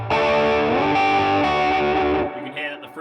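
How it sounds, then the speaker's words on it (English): A Gretsch Masterbuilt electric guitar on its bridge P90 pickup plays a thick, high-gain distorted rock chord that rings loud for about two seconds, then is cut off into quieter fading noise. "So we're starting off the gainy tones on the bridge P90"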